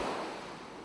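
Sea waves wash in a steady, soft surf hiss, a brief faint stretch of open-ocean water noise with no voices.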